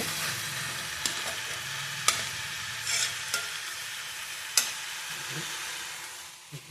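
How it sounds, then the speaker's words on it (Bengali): Cabbage ghonto with peas, potato and tomato sizzles steadily in a pan, with occasional sharp clinks and scrapes of stirring over a continuous frying hiss. "মটরশুঁটি করে দিয়ে আলু টমেটো দিচ্ছি, হয়ে আসছে বাঁধাকপি ঘন্ট।"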